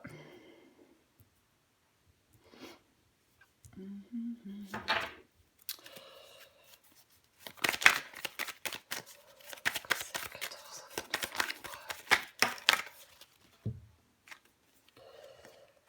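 Tarot cards are shuffled, slid and laid down on a table in irregular bursts of papery rustling and soft snaps, busiest in the second half, with brief quiet talk in between.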